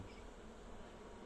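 Steady buzzing of honeybees at a hive fills the short clip, a continuous drone with no voices, holding at an even level throughout.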